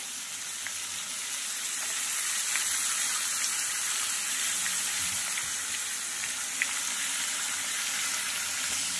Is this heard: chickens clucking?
no